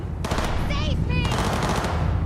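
Rapid automatic gunfire in Cyberpunk 2077 rattles in a dense burst across the whole moment, loud and close, with a brief voice cutting in between the shots.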